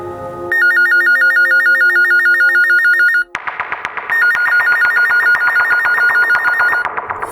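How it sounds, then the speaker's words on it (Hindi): A loud electronic phone ringtone beeps in rapid, repeating trills, pauses briefly, then rings again, close by with no talking. "फोन तो उठाओ"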